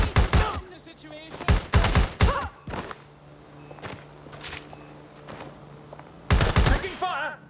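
Bursts of gunfire in the Watch Dogs Legion video game, loud clustered volleys of rapid shots at the start and again near the end, with quieter thuds and a low background hum in between.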